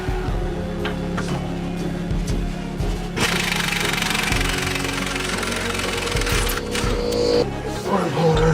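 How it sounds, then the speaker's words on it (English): Loosening a 19mm nut on the passenger rear lower forward arm of a Lexus LS460L: a loud, steady, harsh mechanical rattle runs almost without pause, with a few brief breaks, close and dominant. "I'll need to loosen this 19mm nut"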